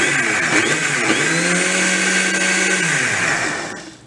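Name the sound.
mixer grinder blending milkshake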